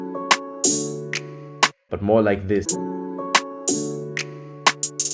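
Open hi-hats ring in a programmed beat, sharp bright hits over a sustained chord, first too loud and then better balanced. Someone speaks briefly midway.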